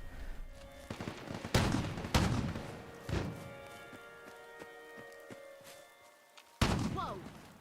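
Gunshots in the video game Fallout 4 crack out in several loud separate bursts with pauses between them, over a quieter game background with a low hum.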